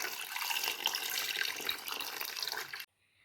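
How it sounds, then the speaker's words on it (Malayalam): Water from a kitchen tap gushes steadily onto eggs in a pot set up for boiling, a close, hissing splash that runs for under three seconds and then stops abruptly. "മുട്ടയിലേക്ക് വെള്ളം വെച്ച് കൊടുക്കാം"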